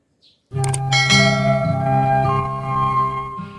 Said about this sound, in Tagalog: hit the notification bell